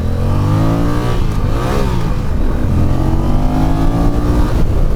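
A 2024 Honda Rebel 1100 cruiser motorcycle pulls hard under acceleration, its loud engine note rising and falling through gear changes, heard up close and alone with no talking.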